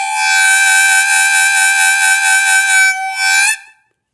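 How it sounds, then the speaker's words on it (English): A-key harmonica holds a rough, edgy overblow double note with a pulsing vibrato, loud and close for several seconds before stopping abruptly, with no talking. "and you also can do a vibrato on it."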